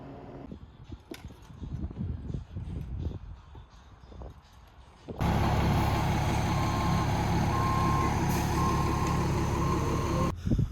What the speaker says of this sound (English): they're trying to navigate my difficult driveway with 6-foot ditches on both sides to back the gooseneck in here